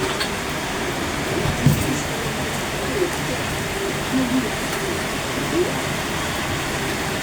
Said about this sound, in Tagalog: Magdamag tong ulan na to.